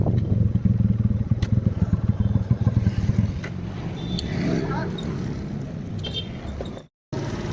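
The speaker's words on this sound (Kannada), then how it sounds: "ಈ ಗಾಡಿ ಸೌಂಡ್ ಜಾಸ್ತಿ ಬಂದಿದೆ" A new motorcycle's engine runs with an excessively loud, rough, uneven rumble, its clatter easing partway through before a brief cutoff; no clear speech.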